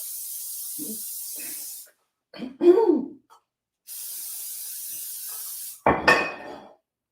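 Two long, steady bursts of aerosol cooking spray greasing a pan hiss, separated by brief clattering and a cough-like exhale, then a metallic clank and rustle at the end.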